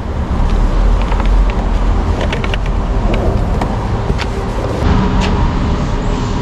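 Buses at an electric bus charging station, a steady loud rumble of vehicle engines and road noise with faint intermittent clicks and knocks, no voices.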